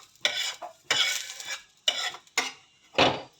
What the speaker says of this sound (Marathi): आता एका भांड्यात काढून घेऊ आपण हे